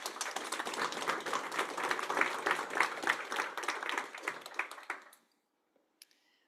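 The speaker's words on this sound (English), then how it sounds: "Round of applause." Warm, dense applause from a conference audience at a New York summit, steady for about five seconds before stopping abruptly into near silence.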